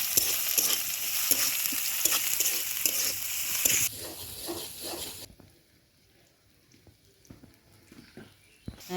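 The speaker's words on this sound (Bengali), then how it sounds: "দিয়ে দিব একে যে পেঁয়াজ আর মরিচ কুচানো, দিয়ে ভালো করে একটু নাড়াচাড়া করে নিতে হবে" Chopped onion and green chilli stir-frying with black cumin in hot oil, a loud, close sizzle with rhythmic scraping and stirring strokes that drop abruptly to a much quieter sizzle partway through, no talking.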